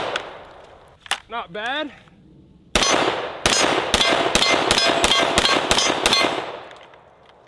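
Rapid gunshots from a Kriss Vector fired with its pistol brace folded, ringing off a steel target: about eight sharp reports in a quick uneven string, loud and close, after a brief whistle-like sound and a short spoken remark.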